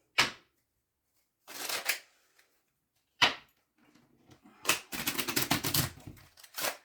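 A playing card slid back into a deck: a few sharp papery snaps and rustles spaced apart, then a longer riffling flutter of cards, close and fairly quiet with no voices.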